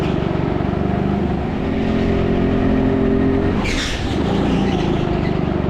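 A go-kart lapping fast at TeamSport Leicester, its small engine droning loud and close with a steady buzzing whine that dips briefly as it brakes into a corner, then climbs again under acceleration.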